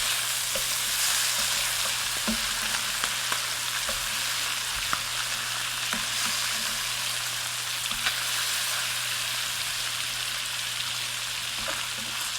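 Salmon fillets pan-frying in garlic butter give a constant dense sizzle and crackle, close and steady throughout, with scattered small pops and occasional faint taps, and no talking.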